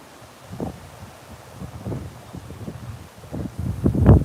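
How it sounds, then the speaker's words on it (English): Wind blows outdoors in uneven gusts, buffeting the microphone with low rumbling bursts that grow stronger toward the end. "it's getting a bit windy here"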